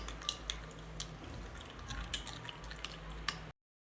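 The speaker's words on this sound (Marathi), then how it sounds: "ते सर्व एकत्र छान असं मिक्स करून घ्यायचे" A spoon stirs Kashmiri red chili and ginger-garlic paste in a pan, giving soft, faint clinks and wet squishes at an uneven pace over a low background hum. The sound ends abruptly in silence.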